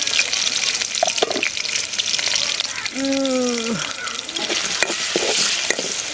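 Onion, garlic and shrimp sizzle and spit steadily in a pan as they fry ahead of cooking taro, with a stirring scrape now and then and a brief voice partway through.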